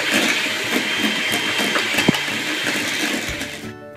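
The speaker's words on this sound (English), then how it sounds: "I'm whipping 4 egg whites" An electric mixer whipping four egg whites with cream of tartar gives a steady, close, continuous motor whir and churning hum that runs the whole time and then cuts off abruptly near the end.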